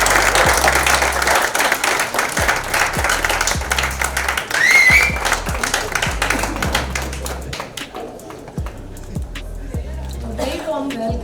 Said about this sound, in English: Huge round of applause for